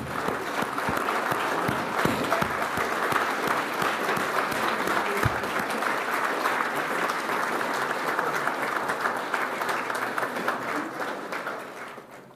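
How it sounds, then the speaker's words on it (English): Sustained audience applause welcoming guests at a 50th anniversary celebration, steady, dense clapping from a sizeable crowd that continues evenly before fading near the end, with no talk over it. "please stand and give a warm round of applause"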